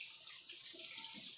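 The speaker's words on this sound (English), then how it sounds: "Wash my hands." A kitchen tap runs steadily while hands are washed after handling raw pork, a soft continuous hiss of water close by, with no talking.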